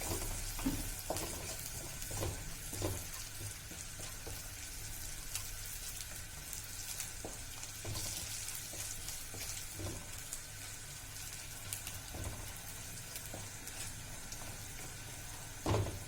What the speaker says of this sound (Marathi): नंतर त्यात टाकूया खोबरा पीठ पण छान तेलामध्ये परतून घेऊन